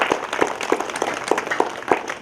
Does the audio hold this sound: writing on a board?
no